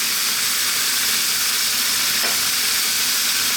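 Tuna, garlic, oregano and chili flakes fry in a pan, giving a loud, even, broadband sizzle that holds steady throughout, with one faint stirring knock partway.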